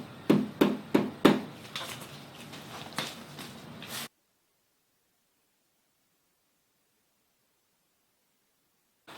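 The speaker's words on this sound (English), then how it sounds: "And by hammer I mean rubber mallet." Rubber mallet tapping tiles down into wet mortar on a heated laundry-room floor: four sharp, close knocks in quick succession, then a softer scuffing stretch and silence.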